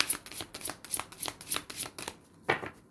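Cards being shuffled for a tarot-style reading, a quick series of crisp riffling bursts at a steady rhythm, close and fairly quiet, with no voices.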